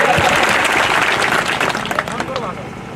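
A crowd at a political rally in Banswara applauds loudly, with dense clapping and a few voices that fade gradually toward the end.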